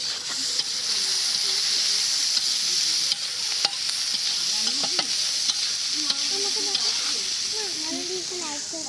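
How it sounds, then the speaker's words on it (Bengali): Onions sizzling and hissing steadily in hot oil in a pan, the first step of an egg-and-potato bhuna cooked at a village picnic, with occasional stirring scrapes and faint voices in the background. "এখানে প্রথমে তেলের ভিতরে পেঁয়াজ দেওয়া হচ্ছে"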